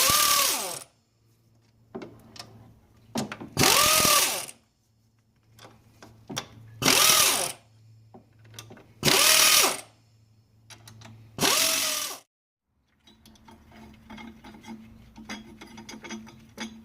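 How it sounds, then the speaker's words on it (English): Power tool spinning out 12mm bracket bolts on a 2003-2006 Kia Sorento engine, five loud separate bursts of a second or so each with pauses between, followed by quieter clicking and rattling of handled parts. "They're both held down by 12mm bolts, so go ahead and remove those."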